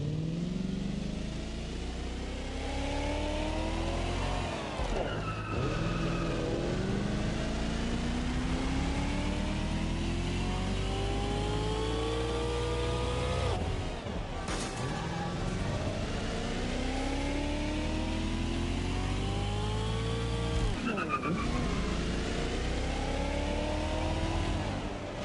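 Car engine in the video game Watch Dogs Legion, droning close and steady as it repeatedly revs up through the gears, pitch climbing then dropping at each shift over a long drive.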